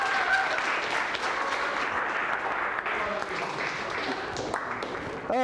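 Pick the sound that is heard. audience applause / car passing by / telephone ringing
audience applause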